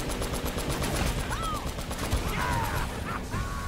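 Gunfire in the Uncharted: Drake's Fortune Remastered video game during a vehicle chase with a large armored vehicle, with steady dense shooting throughout and brief game effects over a constant noisy backdrop.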